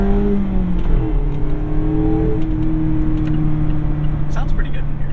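A Mazda Miata ND with a 6-speed manual revs up from inside the cabin, its engine tone climbing steadily through the gear under road noise, with people talking over it.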